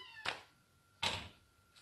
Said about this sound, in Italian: il gatto si è chiuso dentro una stanza